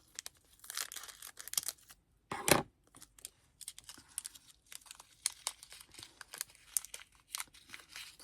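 A diamond painting sachet is cut open and emptied, giving close crinkling plastic, snips and scattered rustles, with one loud tearing burst partway through. No one speaks.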